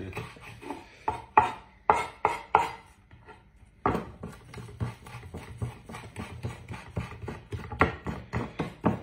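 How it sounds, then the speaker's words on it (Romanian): Parsley chopped with a knife on a board, a quick run of sharp rhythmic knocks, a short pause, then steady repeated chopping close up. "tăiem pătrunjelul un pic, așa, cu un poșior"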